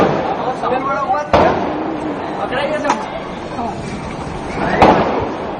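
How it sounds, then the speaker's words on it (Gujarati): Firecrackers pop during Diwali in Vejalpur, a couple of sharp bangs among people chattering and talking nearby, the blasts short and fairly loud against the crowd noise. "વેજલપુરના ફટાકડા"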